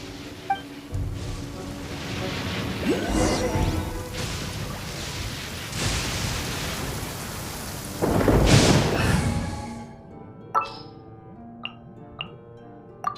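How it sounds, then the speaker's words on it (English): Thunderstorm in the video game Genshin Impact, during the fight against Raiden Shogun: steady rain with loud rolling thunder that builds twice, the second peak the strongest, before fading into quieter sharp in-game effects. "Thunder and lightning can be quite frightening, but don't worry."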